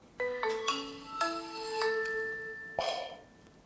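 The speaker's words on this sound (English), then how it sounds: "that's a really nostalgic noise, the Nokia ringtone" A short melodic Nokia ringtone plays from a Nokia 6 phone, a quick sequence of bright electronic tones ending in a sustained note, fairly quiet and alone.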